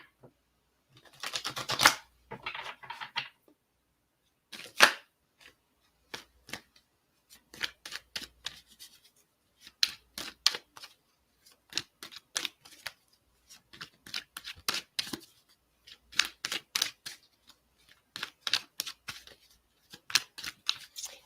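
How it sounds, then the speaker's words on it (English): Love oracle cards are shuffled and pulled by hand, giving quiet, irregular bursts of riffling and flicking cards with short pauses between them and no talking. "So let's pull some love cards."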